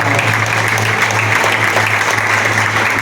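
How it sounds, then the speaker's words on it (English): Loud, dense applause fills a hall at an award ceremony for long-service honorees, a continuous even roar of many clapping hands over a low steady hum. "Please have a big round of applause for all of us."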